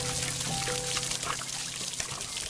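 A watering can pours water over plants in the VR game Garden of the Sea, a short, close trickle and splash with small droplet taps and a faint tonal hum underneath.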